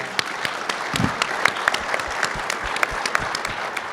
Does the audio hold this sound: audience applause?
yes